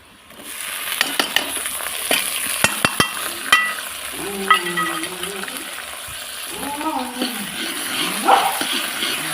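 Cumin seeds fry in a pan with crisp pops and crackles over a low sizzle, close by. A few voices talk over the cooking.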